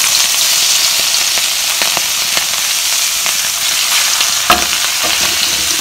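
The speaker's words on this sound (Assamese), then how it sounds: "আদা নহৰুৱে পিঁয়াজে একেলগে দি দিওঁ তেলতে।" Ginger, garlic and onion frying together in hot oil, a loud continuous sizzle with scattered sharp crackles and pops, one stronger spit near the end, no voices.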